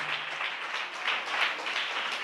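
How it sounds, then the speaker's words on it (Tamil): A church congregation claps hands overhead in worship, giving a soft, fairly distant wash of many hands clapping together in a steady, continuous patter. "நல்ல தலைக்கு மேல கூட கைத்தட்டி தேவனை மகிமைப்படுத்துங்க"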